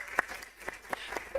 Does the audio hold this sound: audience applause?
yes